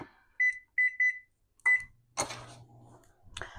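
An oven control panel beeps as the temperature is set to 400: a quick run of three short electronic tones, then a fourth after a pause, followed by a button clunk and rustling.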